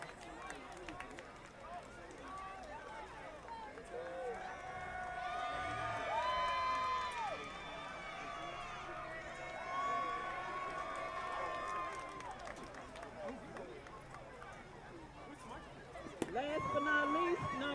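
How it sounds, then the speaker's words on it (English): Crowd at a high school football game cheers and shouts while a public address announcer talks over a loudspeaker, with sustained whoops and noise swelling in the middle and returning near the end. "Let's give our senior football players a round of applause."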